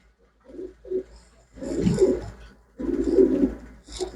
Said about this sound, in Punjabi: ਇਹ ਵੱਡਾ ਕਬੂਤਰ ਹੈ ਬਾਈ